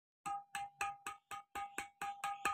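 Yonex Carbonex 35 badminton racket strings, loosely strung at 25 lbs, are tapped ten times in an even rhythm, each a bright, ringing ping with a clear pitch, close and alone.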